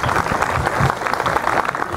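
An audience at a Turkish political gathering claps loudly as a member of parliament is invited to the stage, a dense, steady burst of applause lasting the whole moment.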